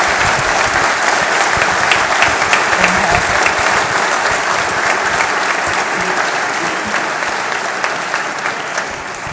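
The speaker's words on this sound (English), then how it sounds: "And give another round of applause, James." A sustained round of audience applause at a film screening Q&A, steady and loud throughout, slowly easing in intensity toward the end.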